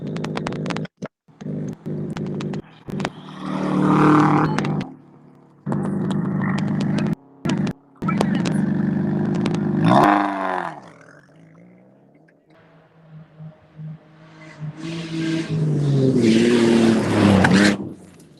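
Rally car at the North East PA Rally Sprint approaching and roaring past, loud engine bursts with gear changes, fading then returning strong near the end.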